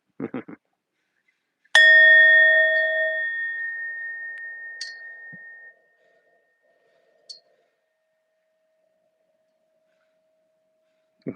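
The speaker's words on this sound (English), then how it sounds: "Brought the bell." A meditation bell is struck once, giving a clear bright ring that decays slowly over about four seconds in a quiet room, with faint brief sounds and murmured speech at the edges.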